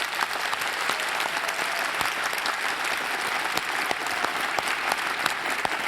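Town hall audience applauding in a sustained, dense burst of clapping that fills the room evenly from start to finish.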